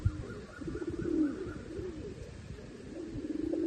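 Murichundan racing pigeons coo softly nearby, a couple of low, rolling coo phrases rising and falling over a quiet background.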